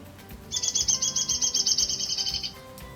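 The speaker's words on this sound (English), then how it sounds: "And their song kind of goes down." Downy woodpecker song: a rapid, even series of about fifteen high, sharp notes running two seconds and gently dropping in pitch, close and clear over faint background noise.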